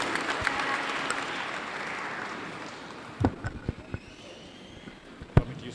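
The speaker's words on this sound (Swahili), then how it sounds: "A round of applause, tafadhali. Makofi mazuri kwa secretary." An audience at a church self-help group's annual general meeting claps for the secretary: a broad wash of applause fades out over a few seconds, followed by scattered knocks and thumps in the room.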